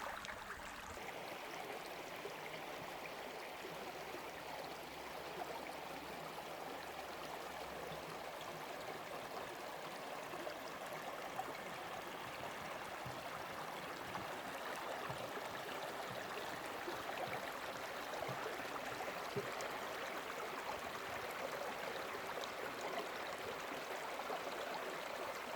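A babbling brook in Algonquin Park flows in a steady, full rush of water that stays constant throughout, with no voices.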